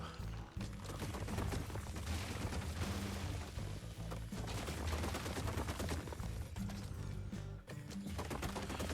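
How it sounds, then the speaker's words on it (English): Rapid laser gunfire in the sci-fi ARK Stargate mod, a dense, continuous stream of loud shots with brief pauses, heard alone without speech. "we're going to get it with lasers. Pew pew pew."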